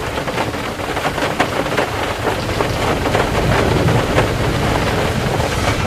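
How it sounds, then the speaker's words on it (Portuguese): Heavy rain and wind roar steadily and loudly throughout, a dense continuous downpour with gusting noise and no clear separate thunderclap or distinct hail strikes standing out. "O mundo inteiro é sacudido por grandes terremotos, trovões, inundações, relâmpagos e chuvas de saraiva."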